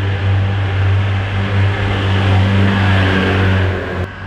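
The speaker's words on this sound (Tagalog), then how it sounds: "Tunog big bike eh. Oh, ganda ng tunog sa loob." A big bike motorcycle engine, stock exhaust, runs loud and steady inside the old stone Asin Tunnel in Tuba, Benguet. The roar holds with a low hum and echoing rumble throughout, then cuts off sharply near the end.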